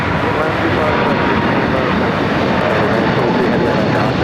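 A Boeing 787 Dreamliner at LAX gives a loud, steady, broadband jet-engine roar that holds close and constant throughout, with a radio voice faintly underneath.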